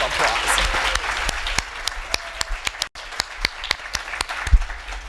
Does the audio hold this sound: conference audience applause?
yes